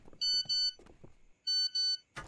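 A phone gives two pairs of bright, high electronic beeps, loud and close, separated by a short pause, with faint talk underneath.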